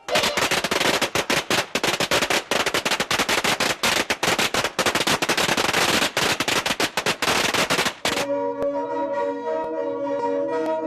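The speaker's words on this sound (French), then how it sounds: "Et les instituteurs font éclater des pétards." Strings of firecrackers set off at a Miao New Year celebration, a dense, rapid barrage of sharp loud cracks for about eight seconds, then a sudden stop into a ringing, tonal background.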